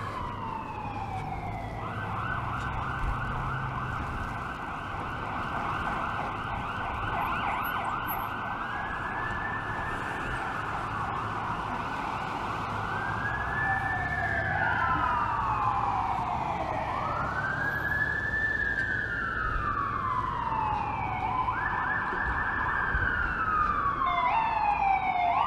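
A fire engine siren wails past on a windy, snowy city street at night in Toronto, its rising and falling tone sweeping loudly overhead and growing nearer over wind and traffic rumble.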